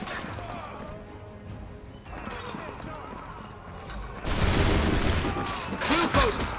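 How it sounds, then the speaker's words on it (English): Bluecoat soldiers firing guns in Assassin's Creed 3, scattered shots and crashes in a busy battle soundscape that swells into a loud volley of gunfire near the end, with voices shouting among the noise. "Bluecoats firing from above."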